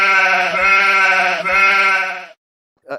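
A goat bleats in one long, loud, wavering cry lasting about two seconds, heard close and alone, followed by a brief short call at the end.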